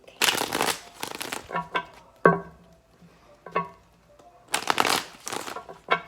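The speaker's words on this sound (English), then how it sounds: "One more shuffle, y'all." Tarot cards being shuffled by hand in several quick riffling bursts, close and crisp, separated by short pauses and soft tapping of the deck.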